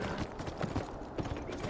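Horse hooves clop on the ground while riding in the video game Beyond: Two Souls, a soft, quick rhythmic patter of hoofbeats beneath a low rumbling background.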